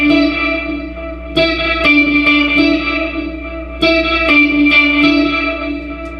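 Electric guitar riff, played as a loop with chorus, reverb and light distortion; short rhythmic stabs and ringing notes repeat in a steady pattern, loud and close with no voices.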